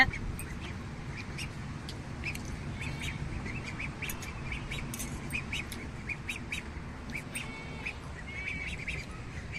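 Many ducks quack and chatter at a distance in a busy, continuous flock over a low background rumble.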